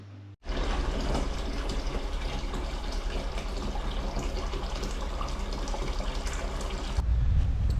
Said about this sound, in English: Easiest way to do that is just dunking it in some hot water